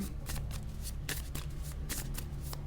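Tarot cards shuffled by hand during a card reading, a steady run of crisp riffling bursts over a low constant hum, close and fairly loud, with no speech.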